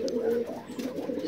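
A large pigeon coos in low, rounded tones close by, with someone talking over part of it.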